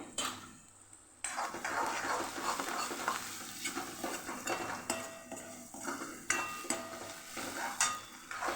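Onion and garlic sautéing in a pan for a Gir-style desi kadhi, with the dish later getting gram-flour batter, a steady close sizzle under repeated spoon stirs and scrapes against the pan, with no talk.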